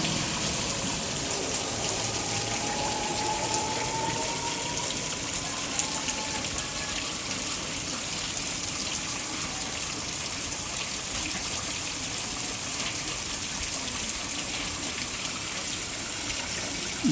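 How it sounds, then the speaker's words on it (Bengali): Heavy rain pours down in a steady, dense wash of sound, unbroken and fairly loud throughout, with no talking. "প্রচুর পরিমাণ বৃষ্টি হচ্ছে"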